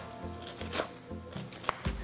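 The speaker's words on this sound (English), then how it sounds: "So all I have to do is to chop everything really finely" Aromatics chopped finely with a knife on a board for a potato filling, a few quiet, irregular knife taps and thuds spaced out over a short stretch.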